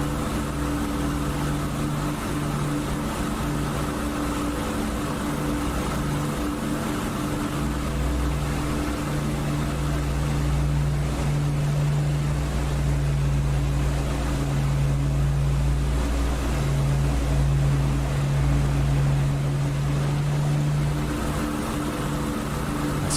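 Twin engines of a de Havilland Mosquito at full throttle, about 3000 RPM, flying low at night in the DCS flight simulator: a loud, steady, unbroken droning roar that holds throughout with no talking.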